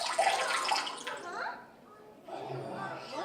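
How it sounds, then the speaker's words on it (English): Cool, clear water pours steadily onto a burn, a running splash with brief breaks, heard close and moderately loud. "as long as it's still burning, you want to keep putting cool, clear water on it"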